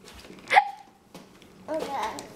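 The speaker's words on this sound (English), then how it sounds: "Do you have hiccups?" A 10-month-old baby hiccups once, a sharp, brief catch, with soft babbling and faint household sounds around it and a quieter rustle later on.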